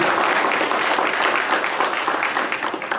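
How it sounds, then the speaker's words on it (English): Applause from the audience at a women empowerment workshop in Assam, India, honouring the choreographer of a dance; dense, steady clapping fills the room for about three seconds, tapering slightly at the end. "Can we have a big applause for the choreographer,"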